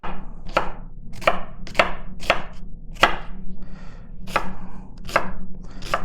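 A knife chops half a red onion on a board in about ten crisp, evenly spaced strokes, close and loud with no talking.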